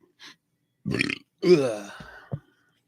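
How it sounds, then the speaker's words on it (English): A loud, drawn-out burp after drinking Dr. Pepper, preceded by short vocal noises and ending with a brief grunt, up close. "Dr. Pepper burp."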